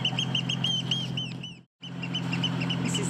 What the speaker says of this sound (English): You can probably hear the birds all shouting at us.